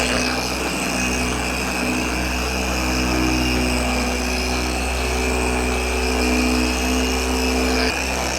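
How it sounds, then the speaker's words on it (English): A car polisher runs steadily on painted bodywork, a constant loud motor whine with a low hum, unbroken and alone for the whole stretch. "So let's, one more time with our polisher."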